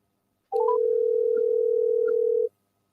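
A telephone call connects with a few quick rising dial beeps, then a single steady electronic ringback tone holds for about two seconds before cutting off, clean and alone.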